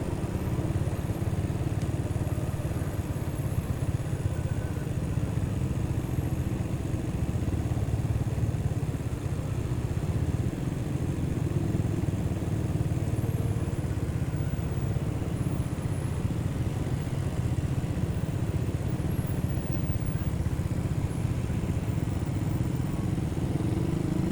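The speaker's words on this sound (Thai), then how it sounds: "ผมก็จะซอกแซกไปตามช่องที่ มอเตอร์ไซค์ สามารถที่จะ แทรกไปได้ครับ" A motorcycle weaves through Bangkok traffic on Sukhumvit Road, its engine droning steadily and close up with a constant road and traffic rumble, and no voices.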